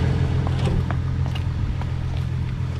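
A Ford Mustang with a freshly replaced water pump idles after a jump-start, a steady low engine hum running throughout with a few faint clicks and ticks over it.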